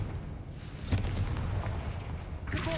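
The Confringo fire spell in Hogwarts Legacy goes off as a heavy, rumbling blast with a boom near the start and another burst near the end, over a continuous low roar.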